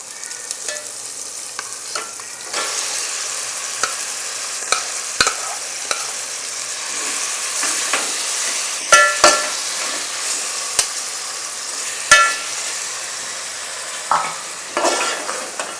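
Mutton sizzles in a pan of masala for a home-style Telugu biryani. A spoon scrapes and stirs with irregular clinks and knocks over a steady close frying hiss, and no one speaks.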